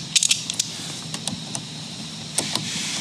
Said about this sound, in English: We're going to use a 10 millimeter socket to go ahead and just get that right up.